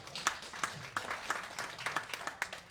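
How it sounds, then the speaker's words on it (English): Scattered clapping from a small audience, a handful of distinct, fairly quiet claps falling in a loose, uneven rhythm rather than a full ovation, with no speech over it. "I want a big round of applause if you safely can"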